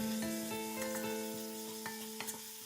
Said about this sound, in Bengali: এখানে আমি 250 গ্রাম চিংড়ি মাছ নিয়েছি। ভালো করে নেড়ে চেড়ে আমি